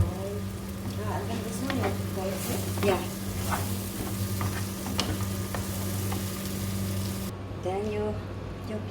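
Harees, an Arabic rice soup, being stirred in a pot over steady loud sizzling and bubbling, with repeated scraping strokes of the spoon close by and talk in the background.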